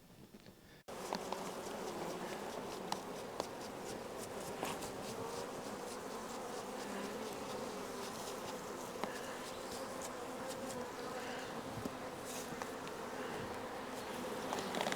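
Dense, continuous buzzing of many honey bees on hive frames, close and steady, with faint ticks and taps scattered through the drone.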